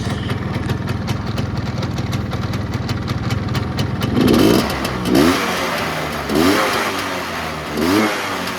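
A 1975 Yamaha RS 100 Super motorcycle engine idles close by and is then revved in four short blips, each rising and falling in pitch between returns to a steady putter.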